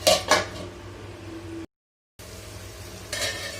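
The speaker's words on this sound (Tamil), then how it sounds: "நான் மூடி வச்சிடறேன்." A metal lid clanks onto a pan of chicken sukka cooking on the stove, two sharp clatters up front over a low sizzle, then a brief pause and a softer scrape near the end.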